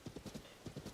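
Horse hooves clip-clop in a steady trotting rhythm, close and moderately loud, with a brief pause midway before the hoofbeats resume.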